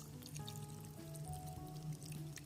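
Water mixed with mosquito bits is poured into a plant pot, a soft, steady trickle with light splashes, close and quiet, with no voices.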